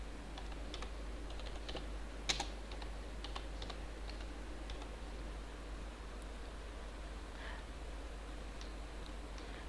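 Faint, sparse keystrokes on a computer keyboard as code is typed, scattered taps over a steady low hum, one sharper click partway through.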